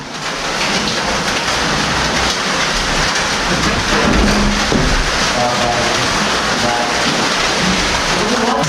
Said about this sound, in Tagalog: Po, umuulan.